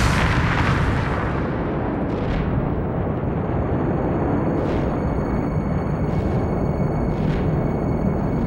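Deep, sustained explosive roar standing in for the Big Bang, a loud continuous rumbling blast with a few brief bursts layered on top and no speech.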